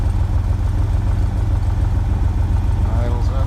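The engine of a Cessna TR182 aircraft runs at idle with a steady low throb that holds even throughout, close and loud, while voices speak over it near the end.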